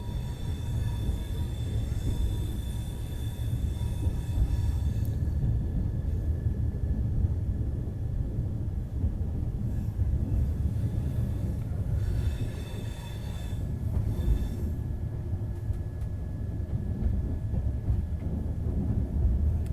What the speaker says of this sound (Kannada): ಟ್ರೈನ್ ನೋಡ್ರಿ ಇಲ್ದ ಪೂರ್ತಿ ಸ್ಲಮ್ ಏರಿಯಾ ನಡಕನ ಹೊಂಟದೆ